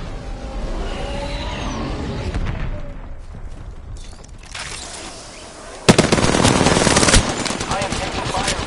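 Rapid machine-gun fire and scattered gunshots rattle through a multiplayer shooter game battle, loud and continuous with bursts intensifying near the end, mixed with game effects and voices underneath.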